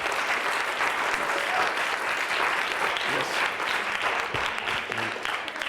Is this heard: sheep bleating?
no